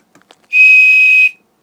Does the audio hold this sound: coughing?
no